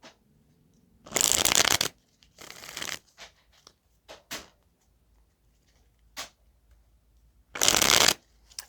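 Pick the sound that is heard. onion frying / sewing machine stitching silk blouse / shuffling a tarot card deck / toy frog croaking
shuffling a tarot card deck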